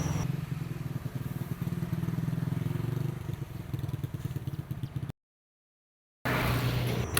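A worn-out old motorcycle under way, its engine chugging in a steady, rattling throb with wind rush, then a brief dropout before a louder burst as it speeds up.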